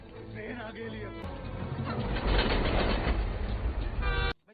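A train rumbles past close by, its heavy low roar building to a loud peak before cutting off abruptly.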